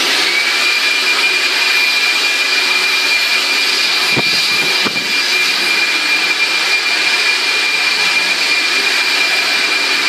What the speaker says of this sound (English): Now we're just going to vacuum the floor for the final coat